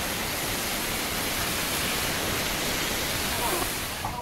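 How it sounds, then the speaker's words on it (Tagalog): A high-pressure water cannon blasts a coast guard ship, the BRP Dato Bangkaw, near Scarborough Shoal, producing a loud, continuous roaring hiss of spray that stays constant throughout. "Ito, tumatama na yung water cannon."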